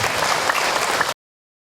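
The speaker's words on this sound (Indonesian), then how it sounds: "Tepuk tangan buat ibu yang bertanya tadi." An audience applauds a woman who asked a question at an Islamic lecture, with a dense burst of clapping that cuts off abruptly after about a second.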